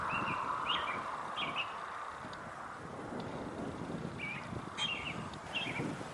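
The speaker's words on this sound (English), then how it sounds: "Isn't it beautiful to hear the robins singing?" Robins sing outdoors in a series of short, bright phrases at moderate distance, with light wind noise and a faint low rumble underneath.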